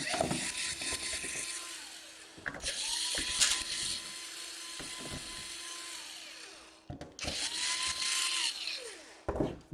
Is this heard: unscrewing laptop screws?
yes